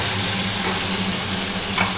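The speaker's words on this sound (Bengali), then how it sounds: "মাছ ভাজা হতে থাকুক" Small mola fish, just flipped, fry in a pan of hot oil, giving a loud, dense, continuous sizzle close up with no other sounds.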